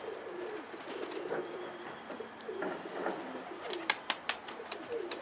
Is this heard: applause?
no